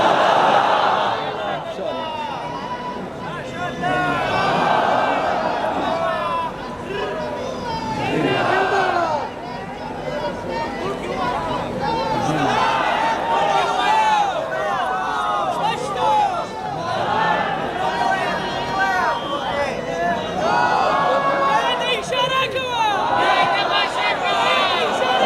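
A large crowd at a political rally in Chiniot chants slogans loudly in repeated rhythmic waves of shouting, near and massed, rising and falling across the whole stretch.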